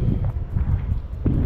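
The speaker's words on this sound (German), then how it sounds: "ihr hört das auch schon mit dem Wind" Low, blustery rumble of wind buffeting the microphone at an abandoned coal mine in France, steady and close, with a few brief knocks and thumps.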